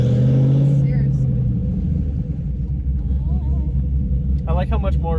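A manual Camaro is driven hard, its engine revving with a deep rumble and rising pitch, then settling into a low steady drone. A voice speaks briefly near the end.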